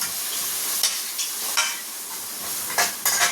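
Spice powder for chicken donnai biryani is stir-fried in a pan over medium heat, a loud continuous close sizzle broken by several scraping strokes of a spoon against the pan.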